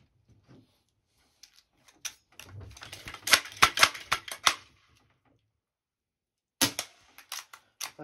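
Rapid gunfire aimed at a row of cans, sharp close cracks in an irregular burst of about a dozen shots clustered mid-stretch, then a few more after a pause, with no voices.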